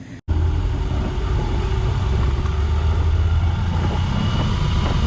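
After a brief cut at the start, a BMW R18 motorcycle engine rumbles steadily and fairly loud up close in Costa Rica, a deep continuous hum.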